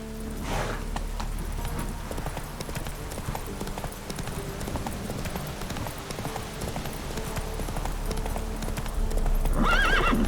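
Horse in The Witcher III: Wild Hunt galloping with steady, loud clip-clop hoofbeats throughout, a brief whinny near the start and another at the end, over a continuous low game rumble.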